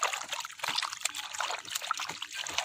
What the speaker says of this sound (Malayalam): ഈ വെള്ളം അങ്ങോട്ട് കളയാം.